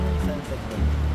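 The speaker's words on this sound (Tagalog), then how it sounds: "I like yung sound ng waves." Sea waves washing ashore at Swansea Bay at high tide, a steady loud close rush of surf filling the whole moment, with a faint voice in the background.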